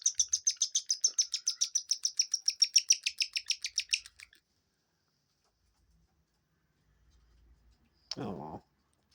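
Two pet birds perched together chirp in a rapid, even series of bright, close tweets for about four seconds while billing beaks, followed by silence and then one short, harsher call.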